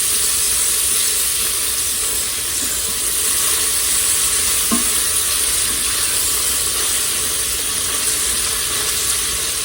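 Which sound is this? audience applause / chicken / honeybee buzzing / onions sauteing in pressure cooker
onions sauteing in pressure cooker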